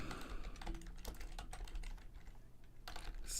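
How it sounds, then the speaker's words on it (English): Typing on a malfunctioning computer keyboard gives irregular bursts of close key clicks and taps over a faint background hum, quiet and without speech. "My keyboard is acting up."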